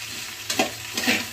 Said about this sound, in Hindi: बस 2-3 बार चलाने के बाद ही भून जाएगा।